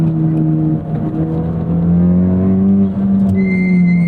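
A 2024 Honda Civic Type R (FL5) accelerates hard, its engine note loud and close as it climbs steadily in pitch, with a brief change near the end as the revs shift and pull on.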